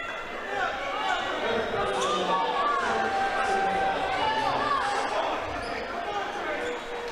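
A basketball game crowd roars and cheers steadily in an indoor arena, a dense, loud wash of many voices sustained throughout.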